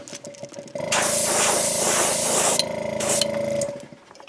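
An airbrush sprays Createx transparent bright yellow paint onto a jerkbait lure being repainted, a steady close hiss that starts after a brief pause and runs for about three seconds with a short break before stopping.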